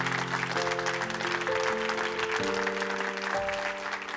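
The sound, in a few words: audience applause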